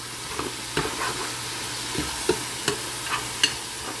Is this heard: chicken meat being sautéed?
yes